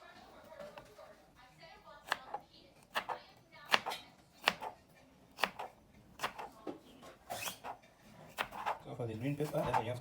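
Green pepper chopped with a knife on a board for a homemade meat pizza, a series of sharp, distinct knife strikes at an uneven rhythm, close and fairly loud, with a voice talking in the background.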